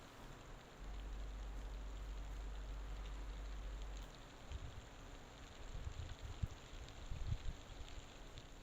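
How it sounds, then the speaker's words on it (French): Soft, steady hiss of rain falling, faint and even throughout, with a low rumble early on and a few scattered drips later. "on a envie de s'endormir en écoutant le bruit de cette pluie"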